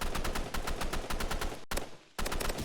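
Rapid automatic gunfire in the Roblox shooter Rivals, loud and close, firing in fast regular bursts with a brief pause before the shooting resumes.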